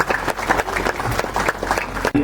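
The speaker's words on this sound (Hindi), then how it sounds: "आप लोगों की तालियां कमजोर न पड़े," Audience applause at a Hindu religious discourse (katha) gathering, dense and steady for about two seconds with a voice faintly mixed in, then cutting off abruptly.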